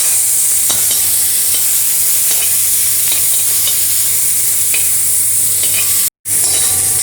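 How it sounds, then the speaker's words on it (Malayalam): Sliced onions sizzle and fry steadily in hot oil while being stirred in a pan for gobi manchurian, a constant close hiss with faint scraping and a momentary dropout near the end. "ഇനി ഇതൊരു തിക്കാവാൻ വേണ്ടി നമ്മൾ ഈ സവാള ഇതുപോലെ ചേർത്ത് കൊടുക്കണേ. നന്നായി ഇളക്കി കൊടുക്കുക."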